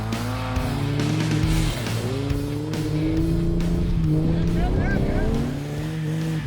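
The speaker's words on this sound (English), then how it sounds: "The little Jeep was the first to go up." A small Jeep's engine labours steadily up a steep hill climb, its revs rising and falling in a continuous loud drone with shifting tonal bands, while voices talk over it.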